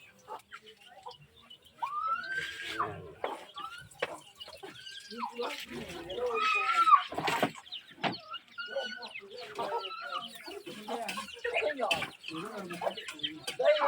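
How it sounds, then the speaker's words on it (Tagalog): Chickens cluck and squawk repeatedly nearby in Pasacao, Camarines Sur, Philippines, a busy scatter of short calls with a rooster-like cry, amid outdoor background noise and some voices. "Nitid naman manok."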